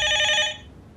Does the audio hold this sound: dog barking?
no